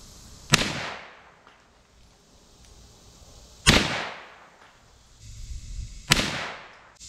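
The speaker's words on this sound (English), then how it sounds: "We'll shoot 3 round group that target." A Hi-Point pistol fires three spaced shots at an outdoor target, each a sharp loud crack with a ringing decay, about three seconds apart, with no talking.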